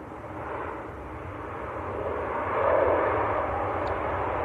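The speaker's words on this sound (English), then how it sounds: "It's a Ryanair Max from Shannon." Ryanair Boeing 737 Max jet at Manchester Airport, a faint, distant engine rumble that grows slightly louder toward the end, steady and without talk.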